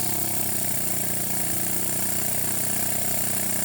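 A small handmade Milly model engine, built from a scratch-made cylinder, piston, crankshaft and connecting rod, runs steadily up close with a fast, even mechanical buzz and no talking.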